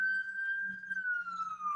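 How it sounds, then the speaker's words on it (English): A police siren wails steadily through a New York City street near Columbia University, a single sustained tone slowly falling in pitch, moderately loud and close, with no talk over it. "sirens are unfortunately a common occurrence"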